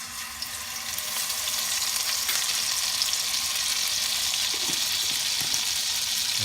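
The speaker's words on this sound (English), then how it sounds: "pan fry our vegetables. So in our wok here, we add our garlic," Garlic sizzles and fries steadily in a hot wok, a loud, continuous crackling hiss heard up close with no talking.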